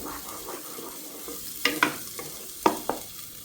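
Mustard paste frying in hot mustard oil while being stirred, with a soft steady sizzle and a few sharp scraping strokes of the spoon against the pan, close and without talk.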